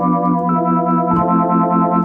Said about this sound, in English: that's using a distortion unit